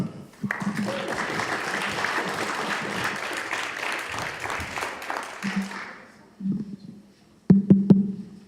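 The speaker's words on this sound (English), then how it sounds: "Big round of applause for Emmanuel." Audience applause at a Go programming conference talk, a steady burst of clapping from a seated crowd that fades out after about six seconds, followed by a few brief low vocal sounds.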